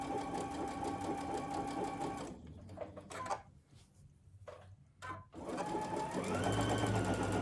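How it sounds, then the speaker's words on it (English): A sewing machine stitches a fabric face mask pocket in quick rapid bursts, stopping briefly with a few clicks and fabric handling before running again, close and clear with no talking. "Make sure that you back stitch at both the beginning and the end so that your pocket won't tear open"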